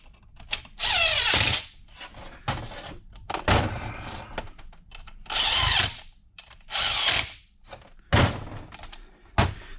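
Cordless impact gun snugging down bolts on a vintage Homelite XL12 chainsaw, several loud close bursts of rapid hammering whir, each a second or so long, separated by brief pauses.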